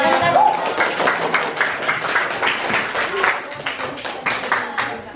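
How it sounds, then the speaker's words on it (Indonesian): Classroom audience clapping after an observation presentation, a fairly loud burst of overlapping claps spread over several seconds, with voices mixed in beneath and around the clapping. "Tepuk tangan."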